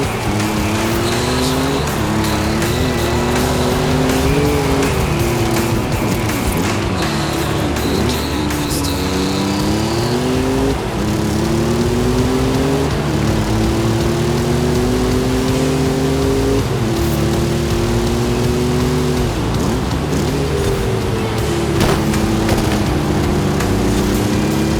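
A Ford Bronco's engine drones through an off-road dirt course in a PS5 racing game, steady loud revving that climbs and dips in stepped gear shifts for the whole stretch, no talking.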